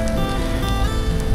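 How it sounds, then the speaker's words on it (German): Steady rain falls during an e-bike ride through a village in the Sauerland, a dense continuous hiss with wind and riding noise underneath, loud and close throughout. "Und es regnet unerbittlich."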